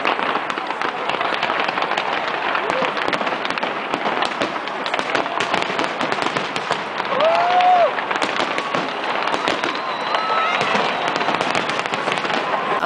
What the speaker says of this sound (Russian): встретили Новый год на фоне лондонского фейерверка